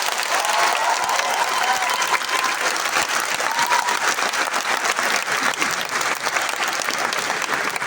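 A festival audience at a poetry session gives sustained, dense applause, steady and close, with no break in the clapping.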